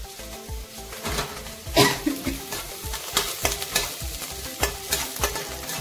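Green chillies and coriander leaves roasting and being stirred in a pan, with repeated scraping stir strokes over a steady close sizzle, no talking.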